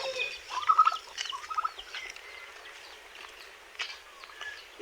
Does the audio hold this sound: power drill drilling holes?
no